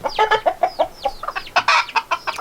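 Hens bought from Tractor Supply clucking close by in a rapid, uneven series of short squawks and chatter with no voices over them.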